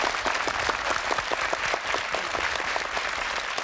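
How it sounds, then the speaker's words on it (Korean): Studio audience applause during a Korean TV military variety show taped with an army unit. Dense, even clapping holds steady throughout the short stretch, close and fairly loud, with no talk over it. "박수 한번 보내주시기 바랍니다."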